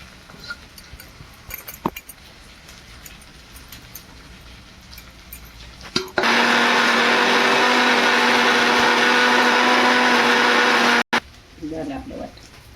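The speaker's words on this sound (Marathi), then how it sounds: "आता हे सगळं आपण वाटून घेऊ." A kitchen mixer grinder loudly blends mint, ginger, garlic, dried coconut, tomato and roasted onion into a masala for Kolhapuri-style chicken curry, one steady whirring run of about five seconds that ends abruptly, with quiet kitchen sounds before and after.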